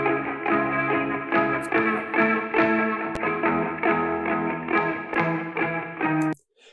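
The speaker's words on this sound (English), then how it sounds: "it has a reverb and a little bit of a ping pong delay on it" An electric guitar plays a flowing indie rock melodic line drenched in reverb and bouncing ping-pong delay, giving a spacey, echoing sound before stopping abruptly near the end.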